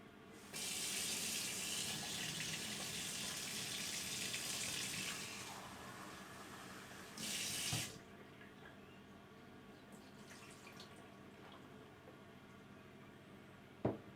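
Lukewarm water pours in a steady broadband rush into an egg incubator for several seconds, stops, then a second shorter pour follows, leaving quiet room tone with faint handling clicks.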